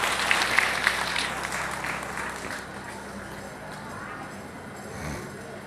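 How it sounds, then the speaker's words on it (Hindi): An audience at a Hindu religious gathering claps for the acharyas, a burst of applause that is loudest at first and then fades to a thinner patter over a background murmur. "एक बार जोर से तालियां बजाओ इन आचार्यों के लिए।"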